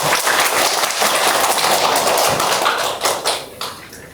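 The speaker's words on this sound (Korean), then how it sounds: "박수 소리가 제가 생각하는 만큼의 박수 소리가 들리지 않는 것 같아요" Audience at a middle-school academy information session applauding: a steady wash of clapping that holds for about three seconds, then thins into a few scattered claps.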